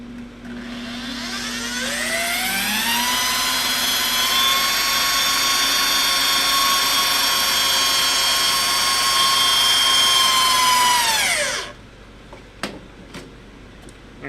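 A motor-driven coiling machine winding wire into rings runs up to speed and holds a steady, loud whine for about ten seconds, then spins down and stops, followed by a few faint clicks.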